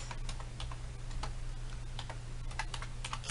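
Steady typing on a computer keyboard while writing an SQL query, a quick irregular run of light key clicks over a constant low hum.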